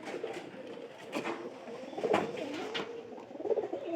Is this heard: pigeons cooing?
yes